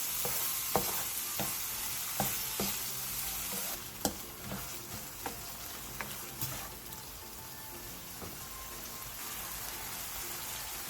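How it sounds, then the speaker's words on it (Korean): Octopus stir-frying in a bubbling seasoning sauce gives a steady close sizzle and crackle, broken by sharp scraping clicks of a utensil stirring in the pan, with no talking. "양념이 바글바글 끓어오르면 낙지를 넣고 2분에서 3분 정도 더 볶아주세요."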